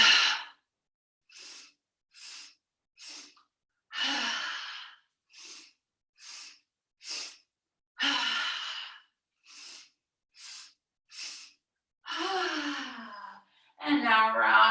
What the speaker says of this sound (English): So you're going to inhale, inhale, inhale, exhale,